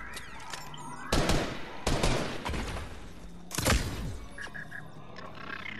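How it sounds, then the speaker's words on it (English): Fortnite gunfire: loud bursts of weapon shots crack out in quick succession, with three sharp volleys and scattered lighter pops between them over game ambience and no talk. "I hear gunshot."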